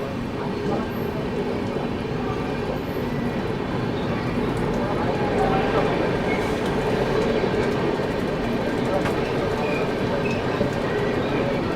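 The West Bengal Sampark Kranti Express pulling into Dhanbad Junction, a steady loud rumble of rolling wagons with faint wheel clatter and squeal, heard from on board without a break.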